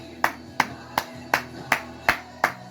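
A congregation at a worship service claps in a steady rhythm of sharp, evenly spaced beats, about three per second, loud and close.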